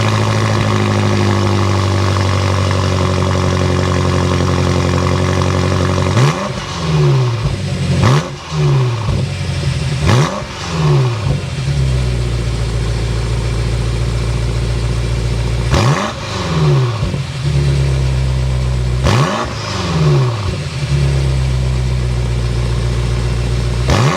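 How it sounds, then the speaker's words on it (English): A 2023 BMW M5 Competition with a twin-turbo V8 and active exhaust starts up and settles into a deep idle, then gives several sharp throttle blips that rise and fall, loud and close. "Twin turbo V8, we have to go inside, start it up so you can hear that active exhaust note."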